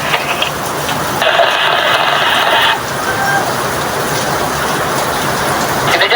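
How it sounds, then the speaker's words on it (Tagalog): Heavy rain pours in a dense, steady hiss, loud and close, with a brief higher whine rising and fading partway through. "malakas pa rin yung ulan eh"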